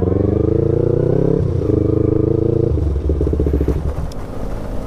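A motorcycle engine runs loud and close, a steady throbbing note that shifts and fades as it moves off, with faint clatter behind it.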